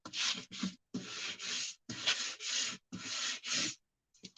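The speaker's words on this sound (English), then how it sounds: "I'm going to give it a quick little sanding to get the smoothness off of it." Hand sanding of an inexpensive Dollar Tree craft item to rough up its smooth surface for paint: five steady rasping bursts of strokes separated by short pauses, close by, with a few faint scrapes at the end.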